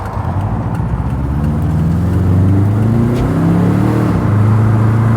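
Warmed-up car engine, with a roughly 20-year-old timing belt, revs up and down continuously and loudly while driving, alone with no talk over it.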